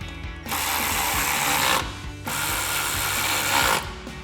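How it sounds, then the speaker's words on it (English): A hand ratchet with a 5mm Allen socket tightens a running board bracket on a Toyota Tundra. It makes two close, rapid runs of clicking pawl, each lasting over a second, with a short pause between. "So we're going to use a 5mm Allen socket and a ratchet and tighten this down."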